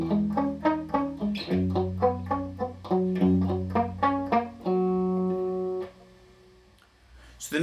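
Electric guitar playing a chord sequence: a steady run of rhythmic chords, close and loud, ending on a long sustained chord that fades out.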